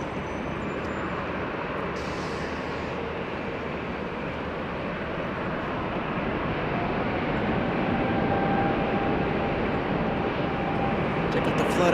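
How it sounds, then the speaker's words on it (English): A Boeing 777 airliner begins its takeoff roll at Los Angeles International Airport, its broad engine roar steady and gradually swelling, heard from a distance with a live commentator talking over it. "Look at the rudders on that 777 as it gets a move on."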